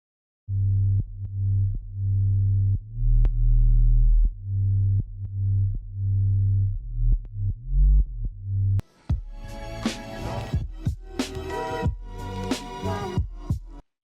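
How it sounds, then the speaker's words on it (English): Hard-hitting trap 808 bass made with Ableton Operator and stock effects plays a loud, deep sliding bass pattern with rhythmic gaps, then a full trap beat with crisp hi-hats and snares joins it in the second half. "how to make this hard-hitting 808 using only Ableton's operator and Ableton stock effects"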